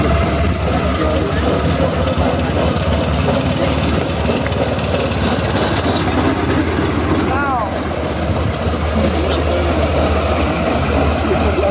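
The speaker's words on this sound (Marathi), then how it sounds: "train testing" A train on a test run on the newly opened Ahmednagar–Beed railway line rumbles steadily with a deep engine drone for the whole stretch, with voices talking over it.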